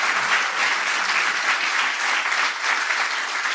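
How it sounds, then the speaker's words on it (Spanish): Steady, dense applause from a conference audience at a legal talk on wills, inheritance and taxes, filling the whole stretch without a break and fairly loud, with no voices standing out. "muy fuerte el aplauso a Abel y José de Marín y Mateo Abogados."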